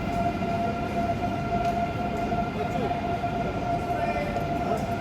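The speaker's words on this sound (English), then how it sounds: "I think that's my train" A Eurostar train moves through a station, giving a steady, loud rumble with sustained whining tones that holds evenly throughout.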